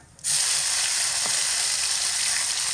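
Whole cumin, a large dried red chili and ginger paste hit hot oil for khichuri, bursting into a loud, steady, continuous sizzle that holds without letup after a brief quiet start.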